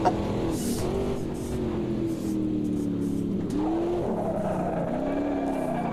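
A race car in the Automobilista 2 racing game runs on new tyres, its engine droning steadily while the tyres squeal and skid through corners, loud and continuous, with the pitch shifting as the car slows and accelerates.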